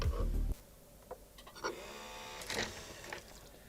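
Sony MiniDisc player ejecting its disc during repair: a heavy clunk, then faint mechanical clicks and a brief whirring motor as the disc is pushed out, all close and quiet.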